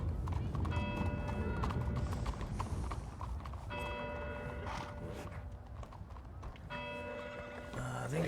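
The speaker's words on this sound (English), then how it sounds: "Horse gangs roaming the streets of Saint Denis." Horses clip-clop along the streets of Saint Denis in a western role-play video game, a steady hoof rhythm under repeated bell-like tones and some background talk.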